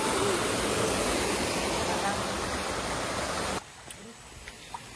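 Dense, steady rush of a flowing river that cuts off abruptly near the end, leaving quieter ambience with a few faint sounds.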